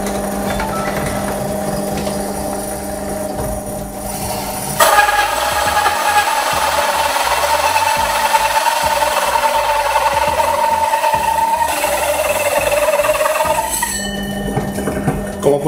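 An electric drill turning at low speed bores slowly down into wood, a steady close whine and grinding that shifts in pitch partway through and then settles back, with no one speaking.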